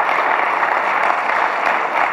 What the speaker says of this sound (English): Somebody give the Lord a hand clap today.